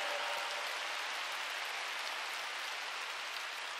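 A large audience at a women's UN inauguration assembly breaks into sustained applause, a dense, even wash of clapping that holds steady without voices.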